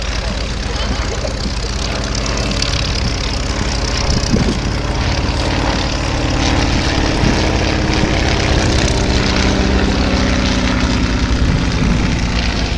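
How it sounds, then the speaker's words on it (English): A WACO UPF-7 biplane's propeller engine drones loudly and steadily at an outdoor air and car show, a continuous rumbling roar close by with faint background voices. "In 1991, he restored this particular aircraft to fly."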